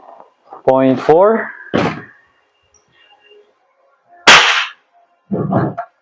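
An Umarex Glock 17 Gen 5 MOS airsoft toy pistol by GHK fires in sharp, snappy cracks, one especially loud, with a voice speaking between the shots.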